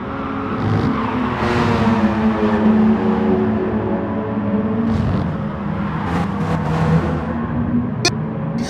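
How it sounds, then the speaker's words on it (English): Steady engine drone from race cars drifting in a racing video game, including an RX-7, a continuous close roar with little variation and no voices. "And we got Legacy out here drifting."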